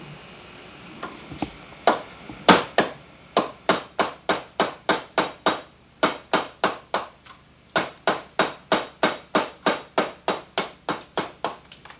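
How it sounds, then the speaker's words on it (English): A mallet strikes a chisel carving wood on a carousel horse, with a few scattered taps at first and then a long, steady run of sharp knocks at a brisk, even rhythm, close and clear. "I'm going to chisel all this down to a taper until it meets even here"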